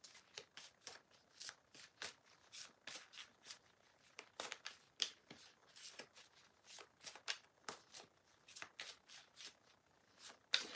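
Tarot cards are shuffled close up in a long run of quick riffles and soft flutters, each burst followed by a brief pause.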